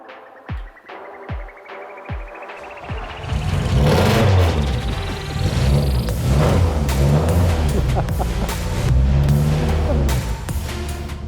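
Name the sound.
vintage car engine starting up and revving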